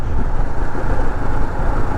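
A Royal Enfield Himalayan motorcycle's engine and exhaust while riding make a loud, steady, rough drone with a low pulsing thrum that never lets up.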